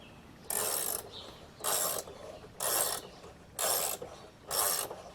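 Socket ratchet tightening the clamp on a Hayward D.E. 4820 pool filter grid assembly, five evenly spaced bursts of rapid clicking, close and clear with short pauses between.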